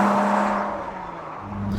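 A Lotus sports car whose engine note pulls hard after a downshift, heard from inside with a steady throaty drone that rises again at the end.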